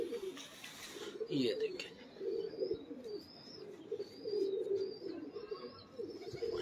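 Pigeons coo in repeated low, throaty rolls close by, while someone speaks briefly over them.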